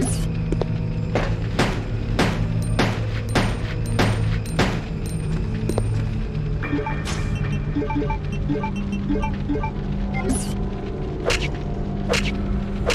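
Dual-wielded submachine guns firing in Resident Evil Code Veronica X, sharp shots in quick bursts and spaced single reports over a steady low game hum, with a brief stretch of faint mechanical clicking in the middle.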